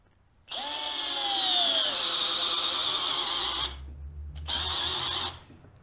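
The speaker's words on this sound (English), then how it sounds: "Let's try a 7/16 inch spade bit. All right, we'll try the Warrior Harbor Freight first this time." A Harbor Freight Warrior 12V cordless drill bores into wood with a 7/16 inch spade bit: a loud whining motor runs for about three seconds, its pitch sagging under load, stops briefly, then whirs again for about a second.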